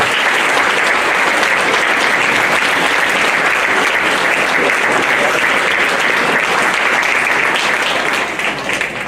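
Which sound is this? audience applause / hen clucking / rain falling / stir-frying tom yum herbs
audience applause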